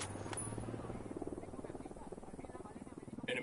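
A military helicopter in the Ghost Recon video game, carrying supplies for rebels, drones with a steady low rotor throb that runs under in-game voices and effects throughout.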